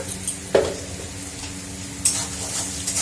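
Salted potatoes sizzling steadily in a hot pan, with a few sharp scraping stirs near the start and middle; no talking.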